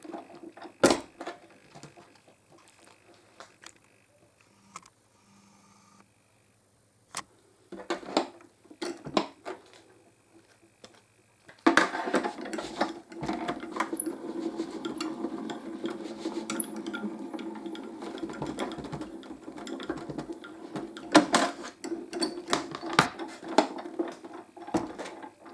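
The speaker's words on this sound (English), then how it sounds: "pop him onto your cutting plates and roll him through your machine." Die-cutting machine cranked by hand as cutting plates roll through it, a run of soft irregular clicks and grinding rattles growing busier and steadier in the second half, close and fairly quiet.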